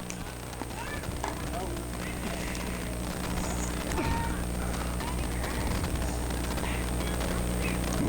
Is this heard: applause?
no